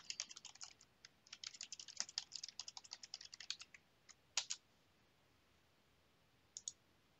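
Typing a username and password on a computer keyboard: quick bursts of crisp, close key clicks for about four seconds, then a couple of isolated keystrokes after a pause, in a quiet room.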